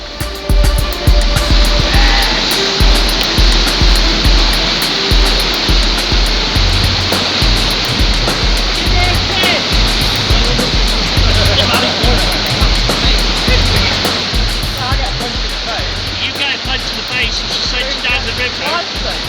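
Whitewater rapids rush with a dense, continuous roar of churning water, loud and close throughout, with a few faint splashes and knocks.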